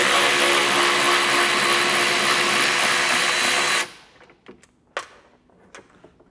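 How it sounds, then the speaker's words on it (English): Electric ratchet loosening a 10 mm bolt during a hitch install on a Tesla Model Y, a loud close whirring buzz for several seconds that cuts off, followed by scattered clicks and clanks. "So we're gonna go grab the electric ratchet right here."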